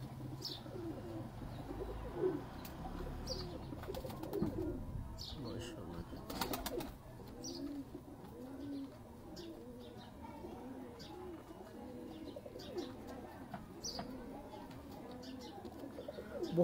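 Heera lal pigeons coo in a steady, repeating low burble through most of the stretch, fairly close, with scattered sharper chirps and a few clicks and knocks mixed in, and no talk over them.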